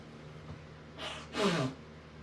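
One person sneezes close by: a short, sharp inhale, then a single breathy burst, fairly quiet against a still background.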